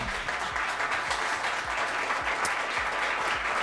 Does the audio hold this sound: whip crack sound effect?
no